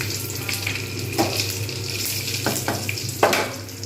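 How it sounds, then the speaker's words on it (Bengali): Green chillies and panch phoron crackle in hot oil with a steady sizzle. Several sharp spatula scrapes and taps stand out above the frying, close and fairly loud. "এরপর আমি এতে দিয়ে দেবো কাঁচা লঙ্কা এবারে দেবো পাঁচ ফোড়ন"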